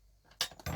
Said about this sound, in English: Then you will need a fork